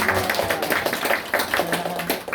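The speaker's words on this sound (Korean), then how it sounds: "다시 한번 축하해 박수." A church congregation at a Sunday worship service gives a short burst of applause, quick overlapping claps lasting about two seconds at close range.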